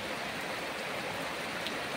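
A constant downpour of heavy rain with no wind gusts or thunder, its thick, uniform rushing roar filling the space nearby without letting up.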